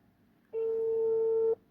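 A single steady electronic phone call tone sounds for about one second, clean and pure, rising abruptly from near silence and stopping just as abruptly.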